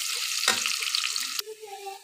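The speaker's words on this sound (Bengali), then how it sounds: "পেঁয়াজ কুচি ভাজা হওয়া পর্যন্ত অপেক্ষা করছি" Chopped onions sizzle in a pan, a steady close hiss of frying that cuts off abruptly partway, leaving quieter scraping and faint tonal sounds afterward.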